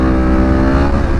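Loud, close motorcycle engine revs hard and steadily as the rider lifts the front wheel into a wheelie, a dense continuous roar with no talk.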